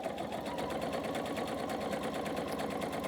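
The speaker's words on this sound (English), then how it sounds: "I'm going to go ahead and stitch" A sewing machine runs steadily, stitching quilt fabric strips for a Hunter Star quilt with a fast, even mechanical whir and rapid needle chatter, close and continuous with no pauses.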